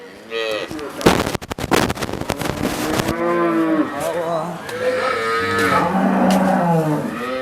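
A large dairy cow at a cattle market moos loudly and repeatedly in long, drawn-out calls, with a burst of sharp clattering knocks early on and crowd noise around.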